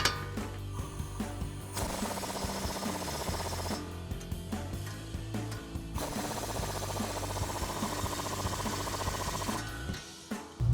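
A 24mm socket tightens nuts on Mustang suspension, giving repeated close metallic ratcheting and clicking bursts separated by short pauses, with clunks near the end and no talking.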